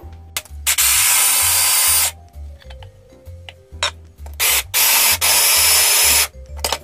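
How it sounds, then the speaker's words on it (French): A kitchen blender crushing Oreo cookies whirs in loud pulses, several bursts of grinding noise separated by short pauses with faint clicks and rattles. "On va mixer notre oreo."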